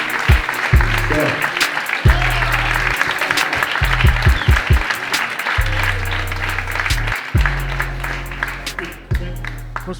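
A crowd applauds and cheers for Ian Balina at a crypto world tour event in Barcelona, Spain. Loud, steady clapping runs throughout, with a voice shouting briefly over it.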